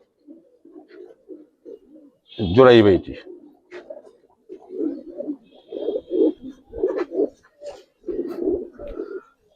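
A Giribaz pigeon, one of a pair shown for sale, gives a single loud, close coo early on, then someone talks steadily over faint bird murmurs.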